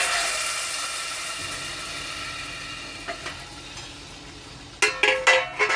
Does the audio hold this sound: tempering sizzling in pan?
yes